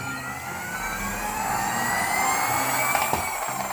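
A small toy car motor whirs steadily at a constant pitch, a continuous buzzing hum with a faint rattle, close by and fairly loud throughout.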